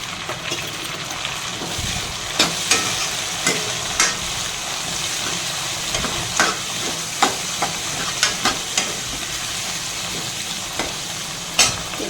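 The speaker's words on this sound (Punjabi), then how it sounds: "ਆਪਣੇ ਪਿਆਜ਼ ਲਸਣ ਤੇ ਅਦਰਕ ਭੁੰਨੇਗੇ ਜੀ ਤੇ ਹੁਣ ਆਪਾਂ ਟਮਾਟਰ ਪਾ ਦਿੰਦੇ ਹਾਂ ਜੀ" Onion, garlic and ginger sizzle loudly in a pan as chopped tomatoes go in for a courgette curry, a steady close frying hiss punctuated by regular sharp clacks of a spoon stirring against the pan.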